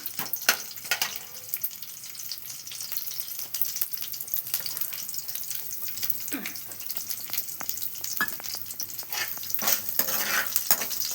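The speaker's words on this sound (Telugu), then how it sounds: "దానికైతే కొంచెం ఇలా ఫ్రై అవ్వాలి" Steady crackling sizzle of instant Maggi noodles frying in a pan, with occasional scrapes and stirring clinks, continuous and fairly close throughout.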